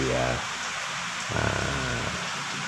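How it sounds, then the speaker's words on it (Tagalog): A steady, dense hiss of heavy rain fills the whole clip while a voice speaks over it. "talagang umuulan nga. Malakas ang ulan"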